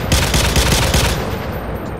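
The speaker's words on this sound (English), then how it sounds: "This is the M60." M60 machine gun in GTA firing a rapid, loud automatic burst of evenly spaced shots that stops after about a second, followed by a fading echoing tail.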